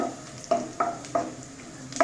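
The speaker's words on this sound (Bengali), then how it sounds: "আবার ভাজছি।" Stirring in a frying pan: a few scraping strokes with a spoon over a steady low sizzle of onion and cumin frying, close by, no talking.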